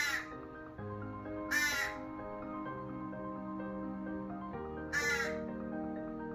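A large crow calls with harsh caws, one brief cry near the start, another soon after and a third later, ringing out over a steady harmonic backdrop.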